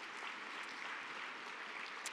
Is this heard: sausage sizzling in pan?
no